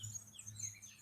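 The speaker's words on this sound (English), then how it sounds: "So y'all can hear those birds?" Faint, high bird chirps and tweets scattered over a quiet garden background, brief and distant.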